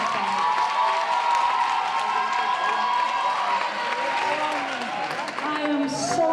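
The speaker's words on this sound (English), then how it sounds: "I want the women to clap hands for themselves" A crowd of young women at a youth election training event clapping for themselves, a dense, continuous wash of applause and cheering that holds steady throughout.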